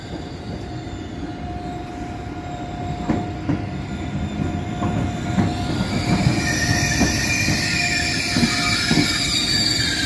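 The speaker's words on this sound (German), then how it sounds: "Und der gerade eben angesagte ICE 3 fährt auch ein." A DB ICE 3 high-speed train pulls into a Franconian station in Bavaria, with metallic wheel squeals, rolling rail clatter and a rising brake hiss in a steady, moderately loud approach.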